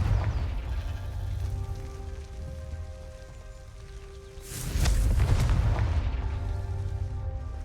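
A Confringo fire spell explodes in Hogwarts Legacy, a loud broadband blast bursting in midway and fading into a crackling, rumbling tail over low ambient game noise.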